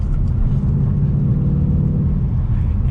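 Cabin drone of a 2021 Ford Mustang GT Premium with manual gearbox cruising normally, a steady low engine and road rumble held at an even level for a few seconds, with no voices.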